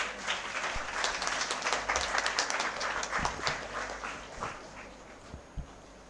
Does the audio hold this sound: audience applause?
yes